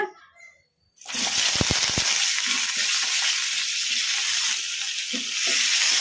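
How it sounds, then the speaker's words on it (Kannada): Cut brinjal pieces hit hot oil in a kadai with a sudden loud sizzle after a brief quiet moment, followed by a few sharp crackles and a steady, strong frying hiss that continues to the end. "ಈಗ ಇದಕ್ಕೆ ನಾವು ಕಟ್ ಮಾಡಿ ಇಟ್ಕೊಂಡಿರೋ ಬದನೆಕಾಯಿ ಹಾಕೋಣ."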